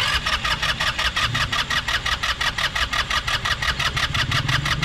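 An Italika DS-150 motorcycle with no spark is being cranked with fuel fed directly into the engine, giving a loud, steady, fast rhythmic churning of starter and engine that never catches.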